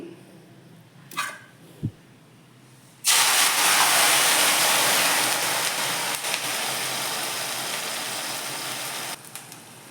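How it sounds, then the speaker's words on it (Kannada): A couple of quiet knocks, then a sudden loud burst of hissing and sizzling as wet leaves and hibiscus flowers hit hot oil, settling into steady frying. "ನೋಡಿ ಇದು ಹೇಗೆ ಕುದೀತಿದೆ ಅಂತ ರಸ ಕೂಡ ಹೆಂಗೆ ಬಿಟ್ಕೋತಾ ಇದೆ ನೋಡಿ"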